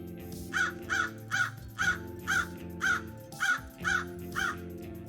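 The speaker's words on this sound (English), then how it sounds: "crow" Crow cawing in a steady series of about nine harsh calls, evenly spaced and fairly close, over a low background hum.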